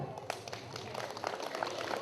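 Audience at a parish picnic clapping together, a brief dense burst of applause heard with a voice speaking over it.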